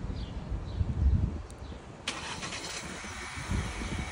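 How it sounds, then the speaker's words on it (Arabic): A Changan UNI-T car engine starting, a brief cranking burst that settles into a low, quiet idle hum, recorded close in a calm setting with faint background noise. "هيك بتكون دارت السيارة"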